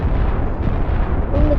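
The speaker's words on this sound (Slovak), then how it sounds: "Shit, jak tam vybuchlo." A planet explodes in the Solar Smash game with a loud, dense, low rumbling blast that holds steady throughout, close and heavy, with no voices over it.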